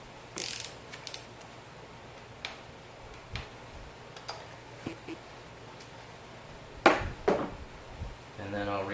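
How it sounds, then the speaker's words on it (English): Inch-pound torque wrench setting and tightening spark plugs on a 2007 Ford Focus 2.0, giving a few sharp ratchet clicks and a louder click burst near the end, close up, with quiet workshop background between. "And I'm using an inch-pound torque wrench for all of this."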